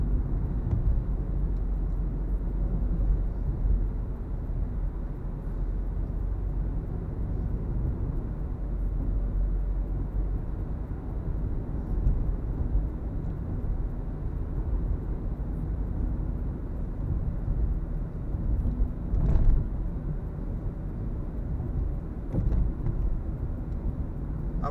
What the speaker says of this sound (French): À cette heure-ci, on roule presque à vitesse maximum de 60 km/h.